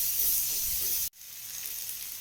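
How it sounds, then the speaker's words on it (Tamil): Jackfruit seed masala sizzles steadily in a pan on a medium flame while being mixed; the hiss cuts out abruptly for a moment, then resumes more softly. "நல்லா மிக்ஸ் பண்ணிக்கலாம்"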